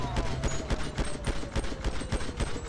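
Rapid gunfire in GTA, bursts of shots cracking in quick succession at a steady, dense rhythm, loud and close throughout with a faint voice underneath.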